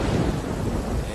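Thunder in a storm booms as a dense, loud, continuous low rumble that fills the whole short moment, with wind-like roar mixed in and no speech.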